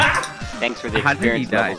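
A dog in the Minecraft video game gives a few short yips and barks mixed in with close, steady conversation from players during a survival multiplayer session.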